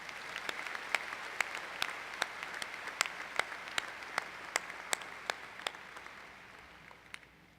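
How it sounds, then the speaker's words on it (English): Scattered, sparse clapping from a small group, individual claps distinct and fairly even, fading slightly toward the end with no voices. "please join me in giving her a warm round of applause"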